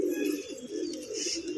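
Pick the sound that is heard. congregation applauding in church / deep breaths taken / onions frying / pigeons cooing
pigeons cooing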